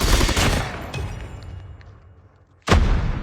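Gunfire in the mobile shooter game COD Mobile, with a loud burst of shots at the start that fades into ringing, then another sharp loud burst near the end, with no talk.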